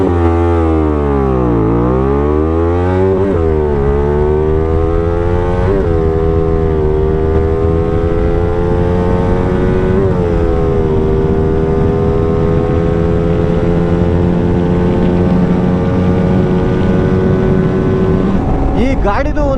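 A Hyosung GT250R motorcycle accelerates hard from a standstill toward 100, its engine note climbing steeply through several gears with brief dips at each shift, loud and close throughout, ending with a faint voice.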